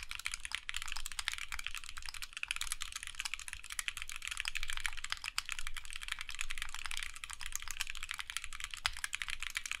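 Steady, dense clatter of typing on an Alice-layout mechanical keyboard with an aluminum case and polycarbonate plate, rapid overlapping keystrokes continuing without pause, close and alone.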